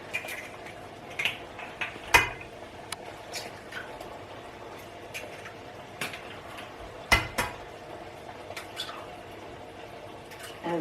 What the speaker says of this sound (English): And we stir them in gently and blend in nicely with the cod mixture.